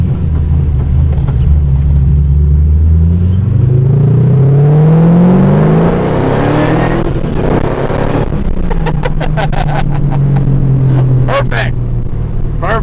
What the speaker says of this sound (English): It's loud inside the car. It's louder than I thought it would be.